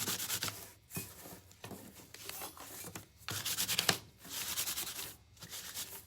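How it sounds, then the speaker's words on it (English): Galvanized metal is scuffed by hand with 220-grit sandpaper in rhythmic back-and-forth rasping strokes, close and fairly quiet, with brief pauses between bursts and no talking. "This is 220 sandpaper"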